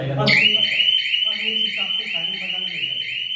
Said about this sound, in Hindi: बीप की आवाज आएगी